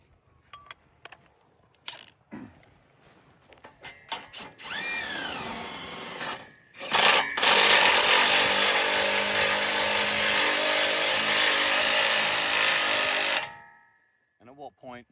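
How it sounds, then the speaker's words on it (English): A rattle gun fitted with an 18mm socket drives a bolt on a timber post stay, heard as a loud buzzing impact burst of about six seconds after some clunks and handling noise. "Grab your rattle gun and your 18mm socket"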